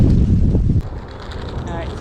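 Outdoor wind blowing and buffeting a microphone in a garden potato bed, a loud rumbling gust for the first moments that eases into a steadier, softer rush.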